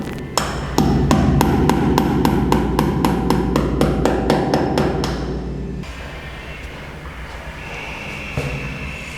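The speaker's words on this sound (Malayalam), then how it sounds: "നമുക്കൊരു കാര്യം ചെയ്യാം ആണി അടിച്ച് നോക്കിയാലോ" A hammer strikes a nail into a gypsum-plastered wall in a quick run of about fifteen sharp, loud, evenly spaced blows, close by, then stops, leaving a low rumble of background noise.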